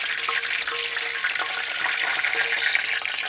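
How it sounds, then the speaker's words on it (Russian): Chebureki crackle and sizzle steadily in hot oil, a dense close hiss of frying with faint tapping sounds and no voices over it. "Будем продолжать жарить."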